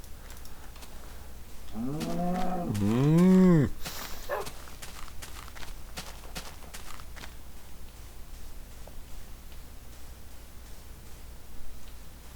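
A Minecraft cow lets out a single drawn-out, wavering moo partway through. Soft blocky footsteps and faint game clicks follow across an otherwise quiet scene.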